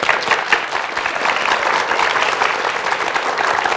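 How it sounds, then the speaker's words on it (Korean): A studio audience applauds for a televised lecture, dense, steady clapping from many hands at close range throughout, without any speech. "김영철 교수님의 강연 힘찬 박수로 청해 듣겠습니다"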